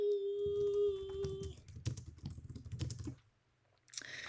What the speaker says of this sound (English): Here, I'll type here right now.